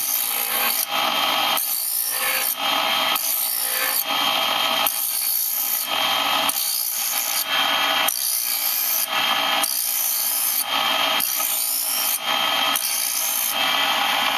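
Steel scraper blade edge ground gently on a grinding wheel, a steady, harsh rasping hiss that pulses in repeated strokes throughout, close and loud with no talk.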